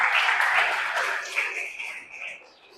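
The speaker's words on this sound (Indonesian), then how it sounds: "Kita kasih aplaus untuk teman-teman yang ngasih pendapat" Classmates in a classroom applaud, a brief burst of dense clapping that fades steadily over a few seconds, with some voices mixed in.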